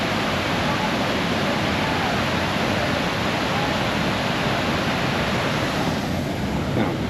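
Steady, dense rushing of the Sinks waterfall in the Smoky Mountains fills the scene, a constant broadband roar without pauses or voices.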